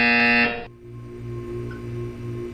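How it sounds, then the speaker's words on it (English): A loud, harsh electronic buzzer sounds for about half a second in the video game Portal 2, then cuts off, leaving a low hum with soft pulsing tones. "You will hear a buzzer."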